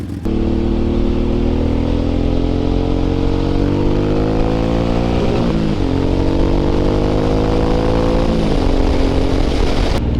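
A Suzuki M109R motorcycle accelerates hard, its loud engine climbing steadily through two gear changes in a continuous close roar with no talking.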